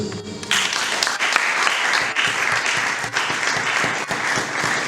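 An audience at a school student parliament session bursts into sustained, loud applause, a dense crackle of many hands clapping that starts abruptly and holds steady throughout.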